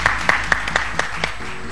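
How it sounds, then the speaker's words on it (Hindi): Hands clapping for the host's birthday, a short run of about eight evenly spaced, fairly close claps from a single person or small group in a room, tapering off at the end. "भाई तालियां बजाएं हमारी होस्ट के लिए।"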